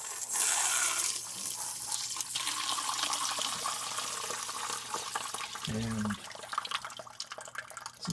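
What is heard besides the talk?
water draining from swamp cooler line through T-drain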